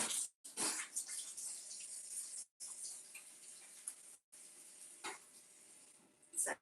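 A household tap runs for hand washing, giving a faint hissing splash of water that stutters and breaks off in short gaps, as if the supply is about to cut out.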